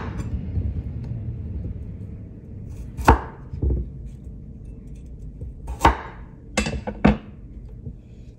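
Papaya being chopped into pieces on a board: several sharp, hard knife strikes spaced a few seconds apart, two close together near the end, over a low kitchen background.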